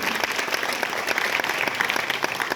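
An audience at a Bundeli poetry gathering in Bhopal claps in a dense, lively burst of applause that runs steadily throughout, close and loud, with no speech over it.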